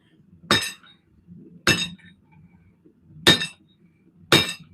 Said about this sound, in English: That's a man's hammer.